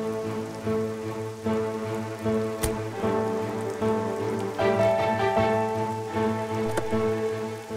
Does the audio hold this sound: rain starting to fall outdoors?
yes